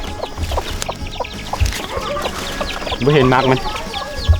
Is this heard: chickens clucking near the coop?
yes